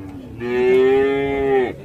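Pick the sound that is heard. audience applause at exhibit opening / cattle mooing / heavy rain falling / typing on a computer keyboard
cattle mooing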